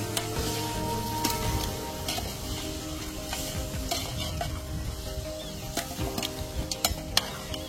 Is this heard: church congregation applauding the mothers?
no